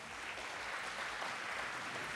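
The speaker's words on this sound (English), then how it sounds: "Audience, let's give our candidates a round of applause." An audience at a San Antonio mayoral candidate forum applauds the candidates; the clapping is a faint, even, unbroken patter throughout.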